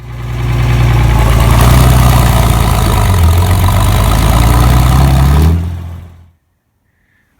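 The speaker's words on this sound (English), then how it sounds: "I wanted to come down to the shop and start up my new tractor I bought" A Case IH 395 tractor engine runs loud and close at a rough, low idle for several seconds. It then winds down and shuts off, leaving near silence.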